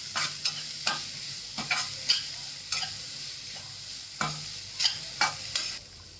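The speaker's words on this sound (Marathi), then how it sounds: "आता याच्यामध्ये एक कांदा बारीक चॉपरमध्ये करून घेतला तो टाकते तो पण चांगला परतून घ्यायचा" Chopped onion sautéed in a pan for peanut amti, with repeated scraping stir strokes over a low steady sizzle, close and fairly quiet, no talking.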